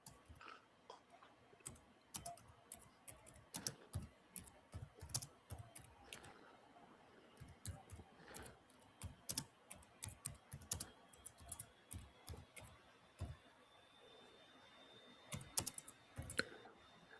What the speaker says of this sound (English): typing away hardcore there